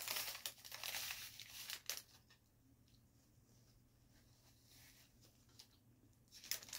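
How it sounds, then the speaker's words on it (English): Plastic donut bag crinkling and rustling in bursts up close, loudest at the start and again near the end, with quieter handling in between. "I'm going to put the bag down for less crinkling"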